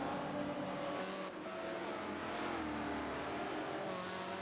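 Race cars in a round of a racing series rush past in a steady, loud engine roar with rising revs, several machines overlapping as they go by, with no talk over it.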